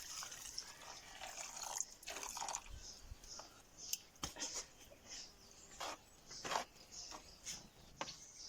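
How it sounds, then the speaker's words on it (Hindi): Water splashes and sloshes as ganhar greens are rinsed by hand, with intermittent drips and wet knocks in a quiet room. "पानी डाल के अच्छी तरह से धो लेंगे इसको।"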